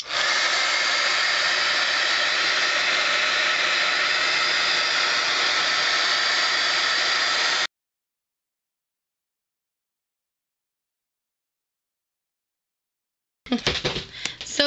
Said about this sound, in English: I have the heating tool, so I am just going to heat it up.